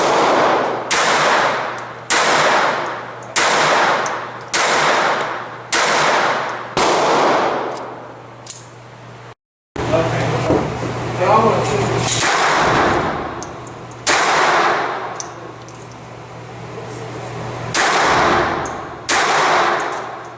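Colt 1908 vest pocket pistol firing .25 ACP rounds, loud sharp reports in a steady series of about fourteen shots with a brief pause midway, each crack ringing out with a short decay.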